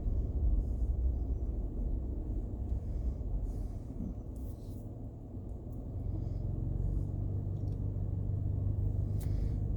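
A truck passing on a road, heard by someone walking beside it: a low, steady rumble that dips briefly then swells again as the vehicle goes by, faint and fairly distant.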